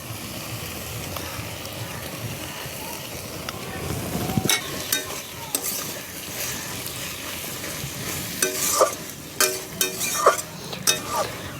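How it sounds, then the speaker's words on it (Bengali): Water lily stems frying with shrimp, green chili and mustard paste in a pan, a steady sizzle with scraping stirs and sharp utensil knocks growing busier toward the end, no talking. "শাপলা, চিংড়ি মাছ আর কাঁচা লঙ্কা সর্ষে বাটা বেশ ভালো করে কষে নেব"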